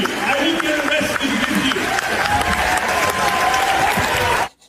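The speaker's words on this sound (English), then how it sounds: "They go on cheering for quite a while." A large crowd at a political rally cheers and applauds loudly and steadily in a sustained standing ovation, a dense wash of clapping and shouts that holds for several seconds before cutting off abruptly.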